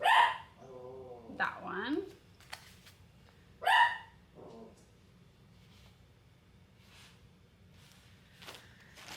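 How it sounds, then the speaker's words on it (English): A dog barks at the front door of a house in two short loud bursts separated by a pause, with a brief voice heard between them. "Sorry if you hear the dog barking."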